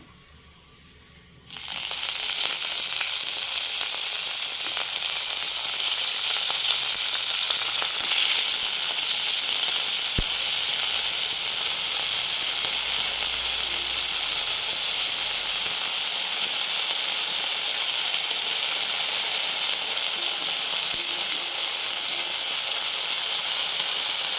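Chopped carrots and potatoes frying in a pan, a loud, steady sizzle with constant hiss that starts abruptly as the potatoes go in and continues unbroken without talk.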